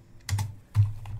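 A few quick computer keyboard keystrokes in two small bursts, close and fairly soft, typing a command with no voice over them.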